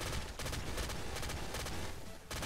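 Frost assault rifle firing in the video game Nuclear Throne: a rapid, steady burst of game gunfire in quick repeated pops, loud and continuous for a couple of seconds before cutting off.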